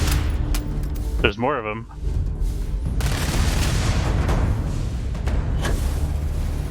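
Gunfire in the video game Starfield: dense, booming shots and blasts continue throughout under a steady rumble, loud and close, while a voice speaks briefly in the middle.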